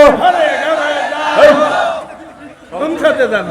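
A large crowd at a Bengali religious sermon in Naogaon roars back a takbir response in loud, unified shouts, two big bursts separated by a brief dip in volume.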